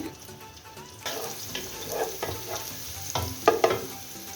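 Chopped garlic hits a hot pan with a sudden sizzle that keeps hissing, with a few stirring scrapes and clatters near the end and no voices.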